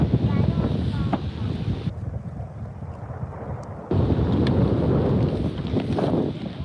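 Strong wind buffets the microphone in loud, steady roaring gusts, easing briefly in the middle before surging back.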